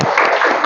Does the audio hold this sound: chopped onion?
no